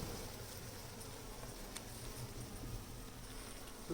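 Bees buzzing around an open hive indoors, a faint, continuous low hum of many insects with no distinct individual passes, quiet and steady throughout.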